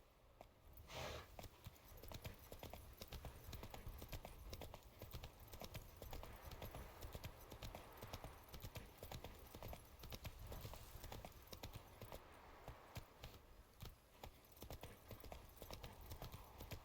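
Hooves of Roach, the horse in The Witcher 3, clip-clop at a steady trot, a continuous rhythmic patter of hoofbeats that stays fairly quiet throughout.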